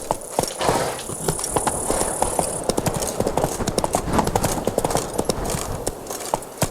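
Roach, Geralt's horse in The Witcher 3: Wild Hunt, galloping with loud, close, rapid clip-clop hoofbeats in a driving rhythm over a steady game soundscape.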